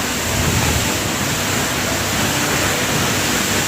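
Dense, continuous rushing roar of a waterfall hidden in a forest, loud and close, with water crashing steadily and nothing else audible.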